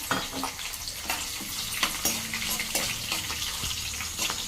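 Garlic cloves and dried red chillies fry in hot oil in a pan for a Telugu amaranth-leaf stew, giving a steady close sizzle with occasional stirring scrapes and utensil taps throughout.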